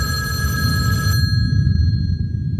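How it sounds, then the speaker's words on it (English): An old telephone bell rings loudly in a hotel room, a close metallic trill that cuts off abruptly partway through, leaving a low background rumble. "The phone began to ring."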